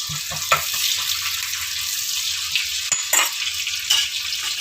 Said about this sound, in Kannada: ಈರುಳ್ಳಿ ಚೆನ್ನಾಗಿ ರೋಸ್ಟ್ ಆಗೋವರೆಗೂ ಫ್ರೈ ಮಾಡ್ಕೊಳ್ಳೋಣ